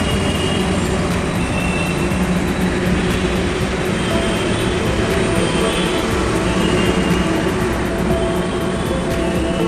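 Steady, loud rumble of a Kolkata East-West Metro train at Salt Lake Sector 5 station, continuous broadband rail noise with a faint high whine throughout and no talking.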